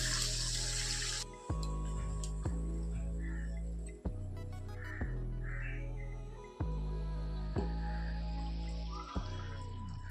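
Water poured into a karahi with mustard oil, black cumin and green chillies, steaming rohu fish: a steady splashing pour over a low droning hum punctuated by a few soft knocks.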